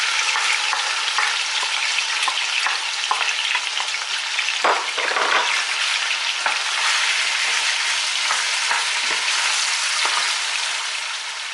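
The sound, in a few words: chicken thighs frying with pepper and onion in pan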